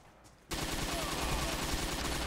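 Truck-mounted machine gun in the video game Forgotten Hope opening up after a brief quiet moment, a loud continuous rapid burst of automatic fire that carries on to the end.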